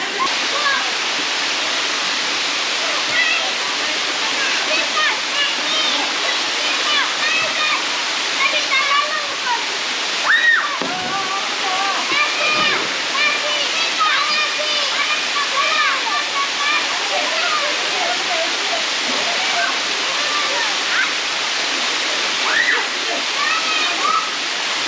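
Vaudomo waterfall in Fiji roars in a loud, steady, close rush of falling water, with voices whooping and shouting over it.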